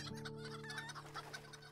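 Short quick clucks from a chicken in the video game LOTRO, quiet and repeated over a steady game background hum.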